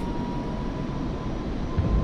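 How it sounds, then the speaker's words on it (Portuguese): A simulated F-5E Tiger II jet in a flight simulator game, with afterburner engaged on takeoff, gives a steady, loud engine roar with a sustained whine and low rumble that swells slightly near the end. "Esse é o barulho de pós-combustão ligado."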